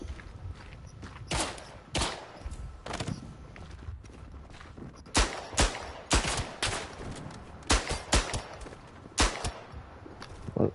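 Gunfire in the WW1 trench shooter Verdun: loud broadband shots crack out singly and in tight clusters of two or three, irregularly spaced over a steady low battlefield rumble, with no talk.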